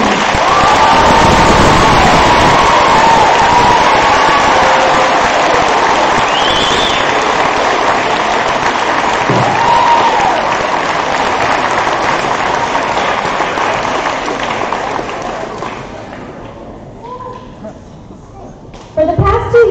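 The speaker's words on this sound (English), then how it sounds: "please give her a round of applause" School audience giving sustained, loud applause for the volunteer of the year, a dense wash of clapping with some cheering that gradually thins and fades toward the end.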